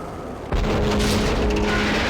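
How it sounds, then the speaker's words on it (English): A grenade launcher fires and its round explodes in Max Payne, a sudden loud boom followed by a rumbling, sustained blast. "I'll give him a nudge with the grenade launcher"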